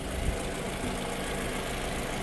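The engine of a 2017 Toyota RAV4 Cruiser 4x4 idles with a steady, close, even rumble and no change in pitch throughout.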